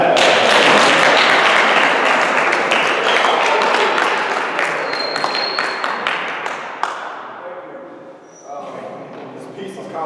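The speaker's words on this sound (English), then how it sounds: "Y'all supposed to clap" An audience claps loudly and steadily in welcome as a speaker is introduced, the dense applause gradually thinning and fading over several seconds, with a few voices audible.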